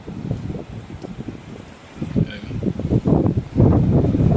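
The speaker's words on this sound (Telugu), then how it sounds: "గాలి అయితే విపరీతంగా వస్తుంది" Strong wind at Suryalanka beach, gusty low rumbling buffets against the microphone that swell and build toward the end, heard alone with no speech.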